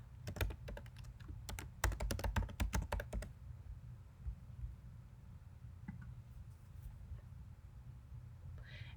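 Someone types a parent email address on a computer keyboard, a quick close burst of crisp key clicks for a few seconds, then it goes quiet apart from faint scattered taps.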